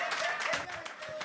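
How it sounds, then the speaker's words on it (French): Brief scattered clapping from a comedy club audience, quiet and sparse taps over a faint background voice. "Là, on applaudit encore."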